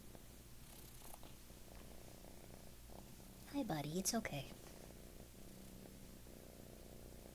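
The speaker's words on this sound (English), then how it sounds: "We can hear his purring." A cat purrs while being held, a soft rumbling burst that swells up close for about a second partway through, with a person speaking gently before and after over a quiet background hiss.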